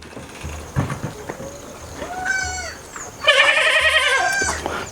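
Newly stocked farm goats bleat during handling for injections, with a short cry followed by a longer, louder quavering bleat, close by, among light shuffling and thumps.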